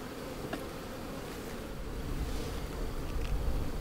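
Honey bees drone inside a hive box in a dense, continuous buzz that swells slightly louder toward the end, close and with no talking.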